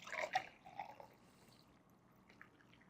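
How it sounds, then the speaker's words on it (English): Coffee is poured into a solid black cup in a brief, faint splashing burst, then trails off into a few quiet drips in an otherwise hushed room. "we poured some coffee in it to see what happened"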